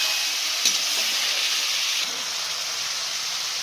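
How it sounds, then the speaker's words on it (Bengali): Spice paste and radish frying in oil in a pan give a steady close hiss and sizzle throughout, with a faint clink near the start and a slight drop in level partway through. "এবার খুব ভালো করে এই মশলাটা কষাবো মূলোর সাথে, যতক্ষণ না তেল ছাড়ে।"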